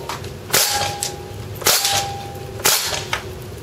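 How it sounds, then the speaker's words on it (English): A WE M14 airsoft rifle fires BBs on full auto at a can about 20 feet away, producing three loud, sharp cracks spaced about a second apart with a brief ringing tone between them. "Whoops, that's on full auto."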